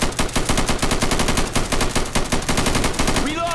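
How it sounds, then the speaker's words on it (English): Sustained automatic gunfire in a video game rattles in loud, rapid, evenly spaced bursts for several seconds, ending with a brief whooshing sweep. "let's stop shooting each other, please"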